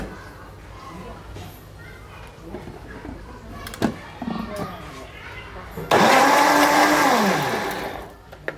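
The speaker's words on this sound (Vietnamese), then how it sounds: "chúng ta sẽ cho lên xay" An electric blender whirs up a mango smoothie with about 80 to 100 g of ice, starting abruptly after some quieter handling noises and speech, then running loud and close with a grinding roar that gradually eases.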